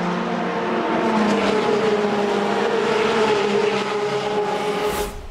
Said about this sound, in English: just to hear the other cars fly by at the start-finish straight, with a variety of distinct engine notes